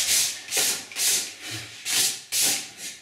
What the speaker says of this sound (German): so werden wir jetzt die ganze Klaviatur erstmal schleifen